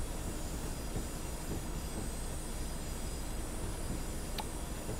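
Steady train rumble in Train Simulator 20 on the West Highland Line in Scotland, with railcar wheels rolling continuously, faint rhythmic track clicks and a brief high wheel squeal near the end, with no talk.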